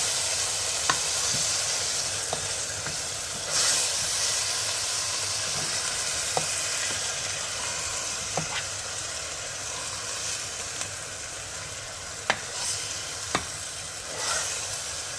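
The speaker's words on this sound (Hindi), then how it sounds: "अब पालक को हमने इसमें अच्छी तरह से भून लेना है" Steady sizzling of spinach frying in a pan for saag, with occasional soft scrapes and clicks of stirring throughout.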